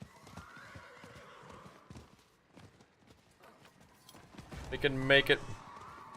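A horse in the Diablo 4 game neighs loudly near the end, its whinny rising over clip-clopping hooves, while someone talks throughout.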